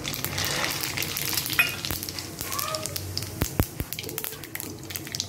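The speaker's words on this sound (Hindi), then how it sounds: "मसाला बनाने के लिए हम सबसे पहले तेल के अंदर राई और जीरा डाल देंगे।" Mustard seeds and cumin sizzling in about one and a half spoons of hot oil for a lemon rice seasoning, a steady crackling fry with sharp pops and spatters toward the end.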